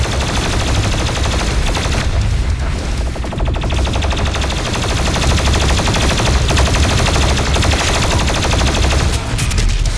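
Continuous heavy rapid-fire blasting from the BFG 10,000 in DOOM Eternal, loud dense bursts and rumbling booms running steadily throughout.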